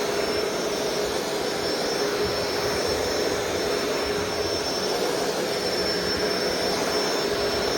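A Shark Rotator DuoClean Powered Lift-Away vacuum runs with its brush roll spinning, giving a steady, loud, unbroken whirring roar with a high whine on top, heard alone at close range.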